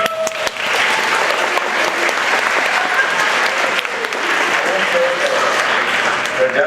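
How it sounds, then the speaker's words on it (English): Steady, full audience applause fills the room for interviewees at an InspirAsian event, sustained and even throughout with a few voices faintly beneath. "I just want to give you a round of applause for it."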